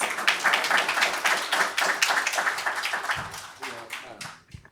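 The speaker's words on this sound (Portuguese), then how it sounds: "Vamos recebê-lo com uma forte salva de palmas." A conference audience at a tech park gives a warm round of applause to welcome a speaker. Many hands clap densely and steadily, then the applause thins and dies away near the end, with faint voices underneath.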